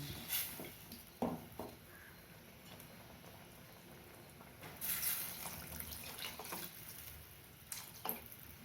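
Water pours and splashes into a cooking pot of kara kuzhambu in a few faint bursts, with small clanks and a quiet background between pours.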